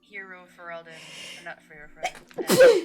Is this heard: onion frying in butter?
no